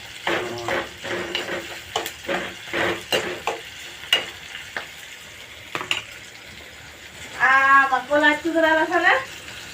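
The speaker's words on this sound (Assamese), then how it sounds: "এতিয়া পিঁয়াজটো দি দিলোঁ" Sliced onion going into a pan for a home-cooked chicken curry, with a series of sharp clacks and scrapes of stirring over a low sizzle. A louder rattling burst of clatter comes near the end.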